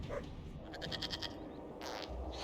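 A goat bleats in Dragon Age Inquisition, with a short wavering cry over a steady low game soundscape, followed by a second brief bleat near the end.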